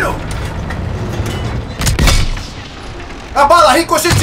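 Gunfire in the World War II shooter Call of Duty WWII, with loud booming shots near 2 seconds and a burst of sharp reports near the end, mixed with game noise and talk.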